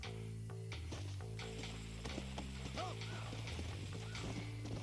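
A horse in Red Dead Redemption approaches with quick, fairly close clip-clop hoofbeats over a low tonal music bed, the steps irregular and moderately loud throughout.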